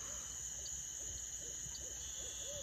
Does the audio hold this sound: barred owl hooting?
yes